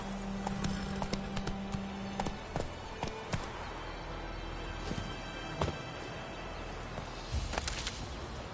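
Hooves of Roach, a horse in a video game, clip-clopping in scattered sharp taps at a walking pace with some background ambience and no voices.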